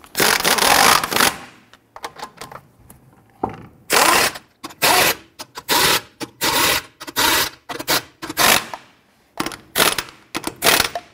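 An impact gun snugs down lug nuts on a 2005–2021 Nissan Frontier wheel in loud, close bursts of whirring and rattling. The bursts come in a steady run, with short pauses between them.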